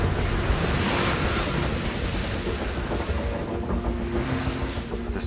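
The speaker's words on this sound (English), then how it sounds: "The relentless wind drives the seawater below." Wind-driven waves roll across the Southern Ocean, a broad continuous wash of surf and gusting wind, loud and unbroken with no voices.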